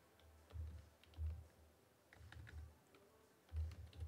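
Soft, muffled keystrokes on a computer keyboard come in a few short bursts against steady low background hum.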